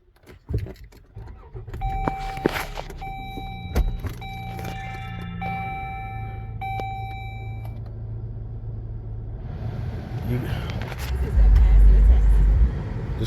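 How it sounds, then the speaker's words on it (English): Dodge SUV push-button start: chimes and electronic beeps, then the engine cranks and settles into a low idle, with a louder rumble near the end, close up. "Okay, so this car is push to start."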